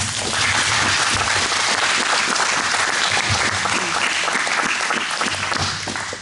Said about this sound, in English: So can we just clap for the three of them?